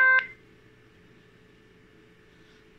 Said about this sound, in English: You can hear beep from computer